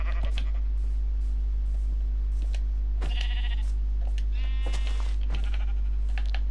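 Sheep in a survival video game bleat several times in short calls at moderate loudness over a constant low hum, with a few clicks in between.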